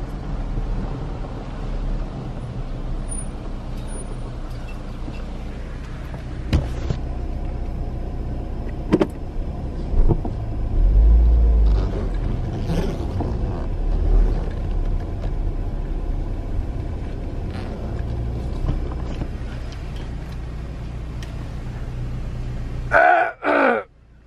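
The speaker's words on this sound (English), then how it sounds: "there is a car behind me" A car rumbles along close behind on the road, a steady low engine drone with a louder swell midway, while crows caw faintly in the background.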